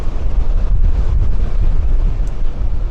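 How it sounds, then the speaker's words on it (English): Strong coastal wind buffeting the microphone at an abandoned cement factory by the sea, a steady loud roaring rumble with no letup. "This is that wind, we're right on the coast."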